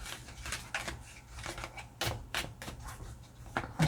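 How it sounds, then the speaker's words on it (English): Oracle cards riffle and slap together in quick repeated shuffles, close and crisp, with a rhythm of brisk bursts over a low steady hum. "I shuffle 3 good times"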